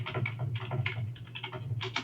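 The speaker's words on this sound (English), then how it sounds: "Type host name in there." Quick keystrokes on a computer keyboard as a host name is entered in a Linux terminal, with soft, close clicks in an uneven run over a steady low hum.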